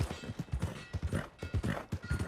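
Hooves clip-clop in quick, even beats in the video game Red Dead Redemption, fairly close and unaccompanied by speech, with a faint mechanical rattle mixed in.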